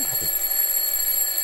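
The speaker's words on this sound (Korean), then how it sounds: "자명종이에요" An alarm clock rings continuously with a sustained high-pitched metallic tone, steady and fairly loud throughout the short moment, with no voices.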